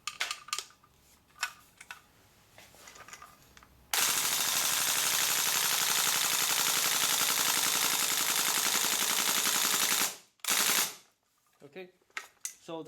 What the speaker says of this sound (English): And now I want to shoot the full auto mode.